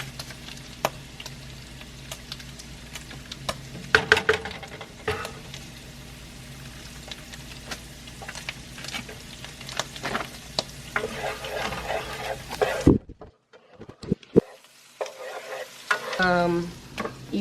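Butter and flour cooking in a pan as the base for a cheese sauce, a soft continuous sizzle with frequent stirring scrapes and taps, then a short quiet gap before stirring resumes.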